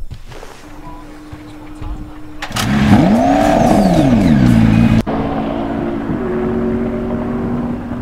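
McLaren P1 and Bugatti Veyron engines in the GTA 5 video game idle, then rev loudly with rising and falling whines before settling into a steady drone, close and alone.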